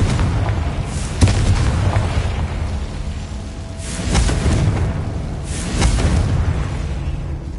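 Booming blasts from the Confringo fire spell in Hogwarts Legacy, three or four heavy rumbling bursts over a loud continuous wash of game noise.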